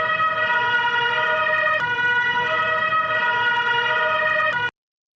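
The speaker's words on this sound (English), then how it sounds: "Let's say we have a stationary ambulance where the sound produced" A stationary ambulance siren wails continuously and loudly, its steady multi-tone pitch switching at intervals between two levels before stopping abruptly.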